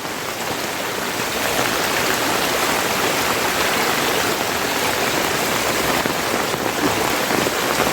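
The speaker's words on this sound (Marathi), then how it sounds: "आज पाऊस जबरदस्त आहे" Heavy monsoon rain pours down steadily in Konkan, India, a dense, loud hiss of drops on surfaces that holds constant throughout with no voices.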